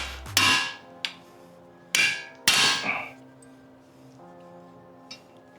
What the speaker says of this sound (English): before you hammer it